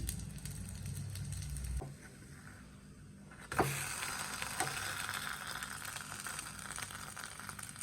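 Bun dosa batter frying in oil in a pan gives a steady sizzle that briefly quiets, then jumps to a sharp, louder hiss that keeps crackling without talk.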